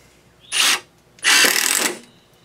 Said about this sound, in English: And then we'll drive a little some deck screw, or actually these are stud screws here.